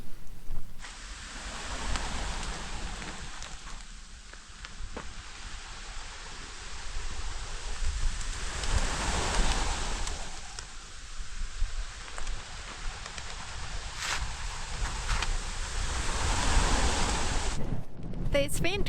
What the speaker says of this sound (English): These wind gusts are quite brutal